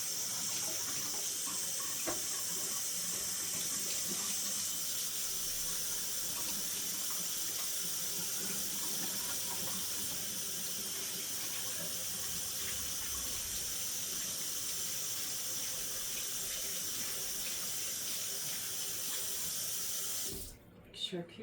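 Kitchen sink tap running steadily, a constant close hiss and splash of water into the basin for about twenty seconds before it is shut off at the end.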